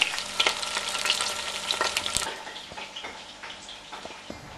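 A pork loin for arista sears in a hot pan with a lively, crackling sizzle. The sizzle is strongest at first and eases off a little, with occasional taps as the meat is turned with wooden spoons.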